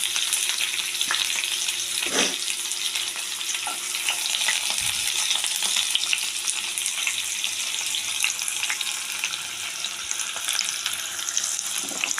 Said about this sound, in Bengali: দেখুন, তেলের মধ্যে আমি দিয়ে দিচ্ছি পেঁয়াজ।